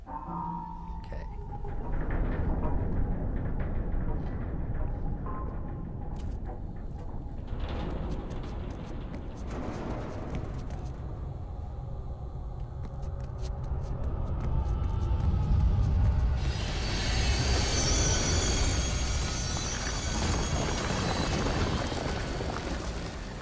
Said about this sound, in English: Nothing like a little subway turbulence.